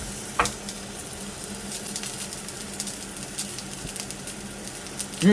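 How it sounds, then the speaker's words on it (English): Plant-based sausage burgers fry in a pan with a steady, close sizzle and light spatter pops, alone without talk. "Let's get them both in the pan."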